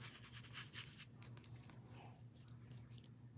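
A dog pants faintly in quick rhythmic breaths somewhere outside, distant and quiet in an otherwise still room.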